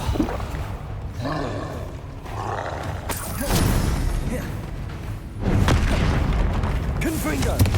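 Loud booming spell blasts from the Confringo explosive curse in Hogwarts Legacy, with one big roaring burst near the middle and another swelling impact later, over constant game noise and rumble.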